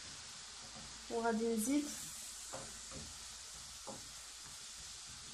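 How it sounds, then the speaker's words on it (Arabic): Onion and garlic sizzle in a hot pan for chicken and fish pastilla, a steady close frying hiss that continues under a short stretch of speech and a few faint stirring clicks. "غادي نشحر هاد البصيله هادي"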